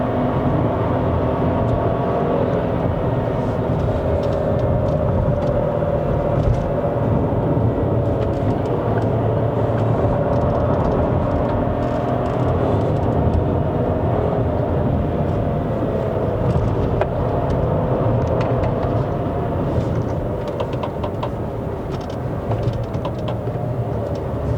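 A 2025 Proton X70 facelift climbs the Genting hill road in Malaysia, its engine pulling hard through the gears under a constant, loud cabin roar and road rumble, with no one speaking.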